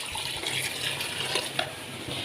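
Water pours steadily into a cooking pot of spiced shami kabab ingredients, a continuous soft splashing hiss with no talk, fairly quiet and close.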